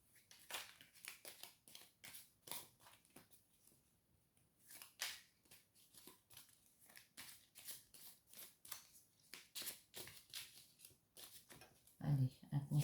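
Oracle cards being shuffled by hand, a run of quick crisp riffling and slapping bursts close up, irregular and continuous, with speech around it.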